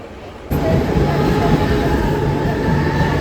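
A commuter train rushes into a Mumbai station suddenly and loud, its steady rumble and rattle filling the air, with faint high tones over the noise.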